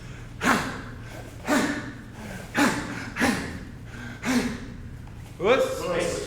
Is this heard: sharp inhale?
yes